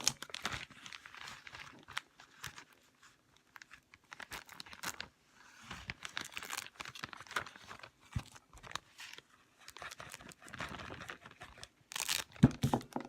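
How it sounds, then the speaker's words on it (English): Mulberries tipped from a bowl into a lightweight plastic freezer bag, with close crinkling and rustling of thin plastic in irregular bursts and soft thumps of fruit landing. "tilt the bowl and dump it into the freezer bag"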